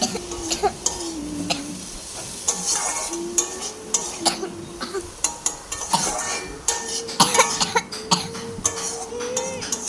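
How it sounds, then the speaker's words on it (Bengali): A girl coughing repeatedly nearby in a kitchen, sharp bursts scattered through the clip over the sizzle of cumin frying and occasional clinks of utensils in a pan. "মেয়ের আজ খুব কাশি হয়েছে তাই পাশ থেকে খুব কাশছে"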